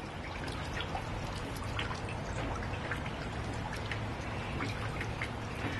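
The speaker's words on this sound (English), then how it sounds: "Look how it's super rainy right now." Steady rain pours down over a large backyard with a pool, a dense, continuous hiss of drops and patter with faint dripping, no voices.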